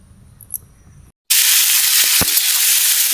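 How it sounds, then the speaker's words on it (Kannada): Tomatoes dropped into a hot pan for mutton saaru burst into a loud, steady sizzle after a brief quiet pause, with a few soft clinks near the start. "ಈಗ ಹಂಚ್ ಕಾದಿದೆ ಈಗ ಟಮಾಟೆ ಹಣ್ಣೆಲ್ಲ ಹಾಕ್ಕೊಂಡು ಹುರ್ಕೊಬಿಡೋಣ"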